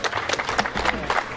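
Audience applause at a cultural program during a conference, a dense burst of clapping from a crowd, close and steady for just over a second.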